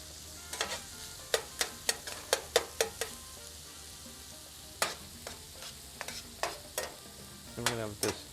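Chorizo frying on a Blackstone griddle, with a quiet sizzle under a series of sharp metal spatula scrapes and taps, clustered early then spaced out, close up and without talk.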